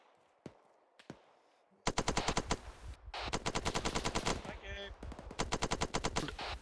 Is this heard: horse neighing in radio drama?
no